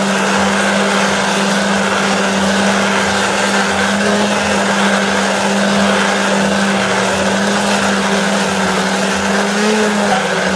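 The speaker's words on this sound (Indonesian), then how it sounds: "nunggu itu mau di mixer teman-teman biar lebih cepat" An electric mixer whirs steadily while blending rose hips, a continuous motor drone with a hum that stays loud and constant throughout, with no voices.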